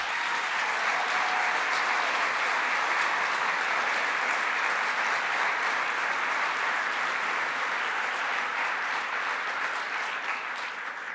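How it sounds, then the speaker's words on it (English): Audience at a charity gala applauds warmly, a dense sustained wash of clapping from many hands that holds steady and loud throughout. "Mr. A, Mrs. Matt, Mr. Pat, give them a round of applause."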